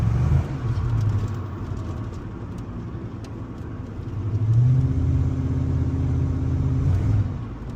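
A stock HSV VN Commodore SV LE V8 cruising with a steady, low engine drone from inside the car, swelling briefly louder about halfway through as it picks up speed, then settling back to an even hum.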